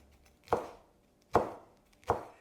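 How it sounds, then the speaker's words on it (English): Three crisp knife chops on a cutting board through fresh sage leaves, evenly spaced under a second apart, close and isolated with no talking. "Just roughly chop the sage"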